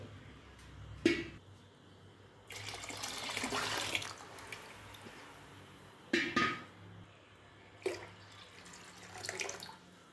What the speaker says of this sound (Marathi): आता या चिकामध्ये भरपूर असं पाणी ओतायचं आहे